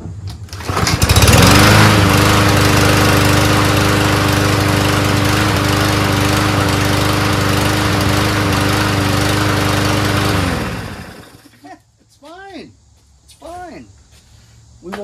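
A Toro rear-wheel-drive self-propelled lawn mower engine, just repaired, roars loudly and steadily for about ten seconds, then cuts off, leaving a few quick chirpy sounds in the quiet.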